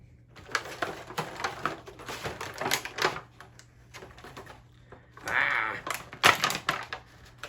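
Drone packaging being cut open, heard as close, irregular bursts of scraping, tearing and crinkling with short pauses between cuts and a sharper snap near the end.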